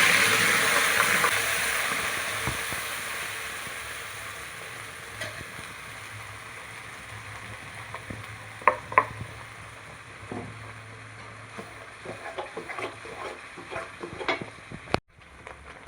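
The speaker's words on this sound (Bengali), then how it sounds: "তেল গরম হয়ে গেছে, এবার আমি দুটো জিরে এবং শুকনো ঝাল ফোড়ন দেবো" Cumin seeds and dried chillies tempering in hot oil for a Bengali potol bata, a steady close frying hiss that fades slightly, then scattered crackles and spatters build near the end before a sharp knock.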